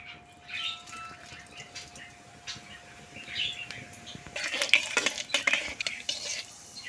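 Cumin seeds frying in mustard oil in a wok, a light sizzle with scattered stirring scrapes that grow louder and busier toward the end, close up with no talk.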